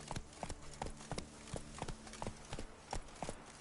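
Hooves of the horse Roach in the video game Witcher 3, a steady, rhythmic clip-clop of a walking gait, about three hoofbeats per second, close and distinct over a low ambient hum.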